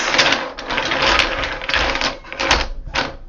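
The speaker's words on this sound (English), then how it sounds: "after shuffling the tiles" Hard domino tiles being shuffled clatter and rattle together in bursts of rapid clicking, close and fairly loud, with short pauses between handfuls.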